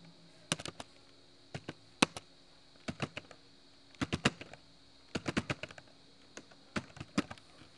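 Keys on a computer keyboard are typed in short bursts of crisp clicks separated by brief pauses, close and clear with no talking over them.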